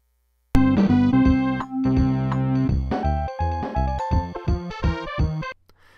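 Casio CA100 keyboard (Realistic Concertmate 670) played through a line-out capture taken from both speaker legs: a clear, loud sequence of sustained electronic organ-like chords and melody notes, steady then breaking into shorter staccato notes before stopping.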